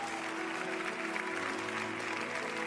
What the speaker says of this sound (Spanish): Vamos a darle un fuerte aplauso al Señor el día de hoy